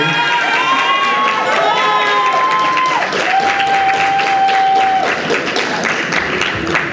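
Audience applause and cheering at a federal election debate at a university in Rimouski, a dense burst of clapping mixed with crowd voices and a few shouts, loud and sustained across the whole stretch.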